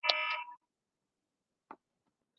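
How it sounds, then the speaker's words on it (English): A brief, loud electronic alarm buzz lasts about half a second and then cuts off, followed by two faint, short blips in otherwise quiet surroundings. "That was just a coincidence that the alarm was going off."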